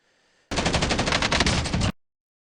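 Automatic gunfire rings out in the video game Warzone as a single rapid burst of about one and a half seconds, loud and sharp, starting and stopping abruptly over near silence.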